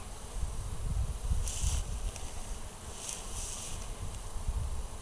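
Swarming honeybees buzz softly and continuously around a hive hole outdoors, a faint steady drone with occasional louder passes of bees flying close.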